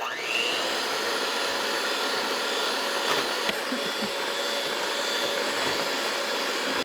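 An electric mixer beats keto strawberry jelly roll batter, a loud, steady, high whirring drone that runs unbroken throughout.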